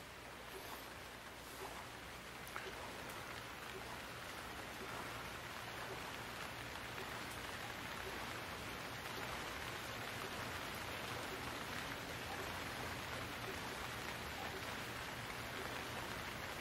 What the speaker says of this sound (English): Ah, see, here comes the rain.